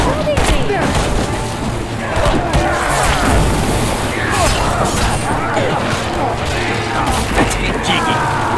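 Rapid gunfire crackles through a match of Evil Dead: The Game, dense and loud shots under and over frantic voices, with a continuous wash of game effects.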